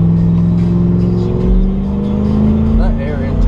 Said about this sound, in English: That air intake makes a hell of a difference in the sound of your truck.